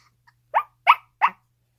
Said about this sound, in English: Oh, who's a good puppy?